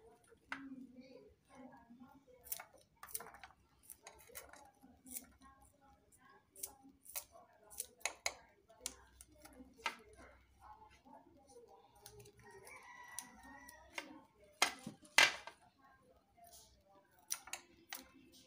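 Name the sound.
cutting spring onions into pieces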